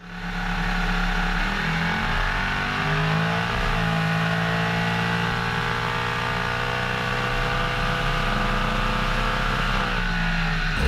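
Bentley drag racing car accelerating hard down the strip at a Street Eliminator event, a loud sustained engine roar with rising and shifting pitch, close and alone without talking.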